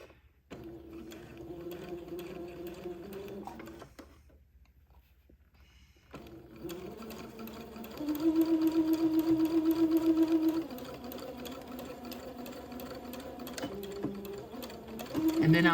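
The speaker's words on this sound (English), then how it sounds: "Now I'm going to sew at about 1/4 of an inch." A sewing machine stitches a quarter-inch seam on a baby garment: a steady close mechanical whir that pauses for a couple of seconds, then resumes and speeds up briefly before running on.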